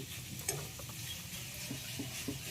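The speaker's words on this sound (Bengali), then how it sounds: "এবার রসুন কুচি দিলাম আদা কুচি টমেটো কুচি এবার লঙ্কা কুচিগুলো দিয়ে দিচ্ছি" Chopped garlic, ginger, tomato and green chili frying in a pan, a low continuous sizzle with faint scraping stirs and small clicks throughout, no voices.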